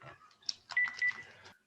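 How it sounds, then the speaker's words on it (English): A mobile phone rings indoors during a tarot reading, giving a short, fairly quiet electronic ringtone of repeated bright tonal beeps over about a second. "my phone is ringing"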